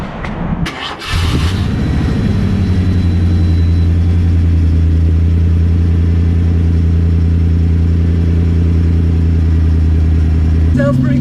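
A Ford 351 V8 in a 1983 Ford Bronco XLT cranks briefly after a few clicks, catches and settles into a loud, steady, close rumbling idle that holds for the remaining seconds.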